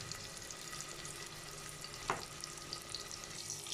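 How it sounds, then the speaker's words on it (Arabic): Ingredients seasoned with salt and cumin sizzle steadily in a pan during stirring, a soft continuous frying hiss with a single brief scrape of the utensil partway through. "وتبتدي تقلبي المكونات كلها لحد ما مش تتحمر"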